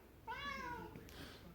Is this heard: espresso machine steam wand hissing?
no